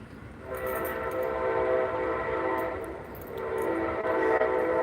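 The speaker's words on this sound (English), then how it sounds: "The train sounds terrifying." A loud train horn blares in long sustained blasts, pausing briefly before sounding again, with a steady rumble underneath.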